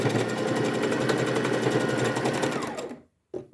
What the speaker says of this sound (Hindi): इस पूरे पे आप डबल सिलाई चला लीजिए ताकि ये अच्छी तरह से मजबूत हो जाए